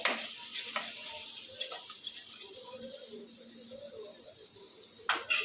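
A spoon stirs turmeric, chili powder and coriander-cumin powder into tempered yellow moong dal, with soft scraping and a faint sizzle running steadily at close range, and a sharper clatter near the end.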